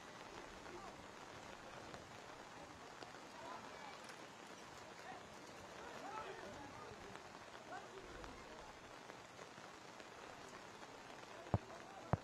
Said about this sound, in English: We'll get it started again in the pouring rain here in Kentucky.